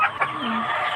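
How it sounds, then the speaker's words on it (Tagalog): Chickens being fed in a backyard in Manungkano, clucking close by in short bursts over a busy, continuous flock murmur. "Nagpakain ako ng manok. Ayan, oh, sobrang dami"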